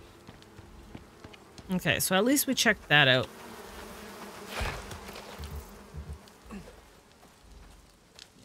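Steady insect buzzing from a swarm of bees around hives in a cave in Icarus, a survival video game, running under a man's speech and a few louder game sound effects.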